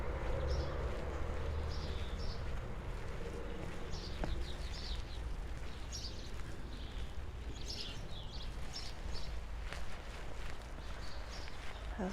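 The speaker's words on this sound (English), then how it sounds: "So you can hear the tropical birds singing from the seal sanctuary." Tropical birds at a seal sanctuary on the Skegness promenade chirp in faint, scattered bursts over a steady low outdoor rumble, with occasional soft footsteps nearby.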